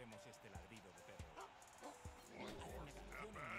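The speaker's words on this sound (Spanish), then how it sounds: "bajamos el tono y reverberemos este ladrido de perro" A dog bark processed to a lower pitch and drenched in reverb, with smeared, hollow yelps in a roomy tail, set under ongoing talk.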